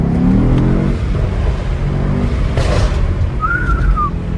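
Stock Mercedes-AMG GT63S engine droning steadily while driving at night, a loud continuous rumble with low burbling and a brief rising whistle-like tone near the end; no distinct pops stand out.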